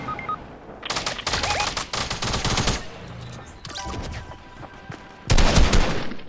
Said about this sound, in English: There is the guy chasing me, and he is shooting me.